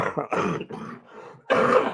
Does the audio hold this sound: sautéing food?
no